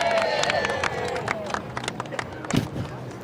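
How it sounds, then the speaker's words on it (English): Hometown crowd at the J-Bay surf contest roaring and clapping in a broad, distant wash of cheers, with voices and whistles over it and a louder burst near the end. "Crowd here at J-Bay in full voice for the Big Brew"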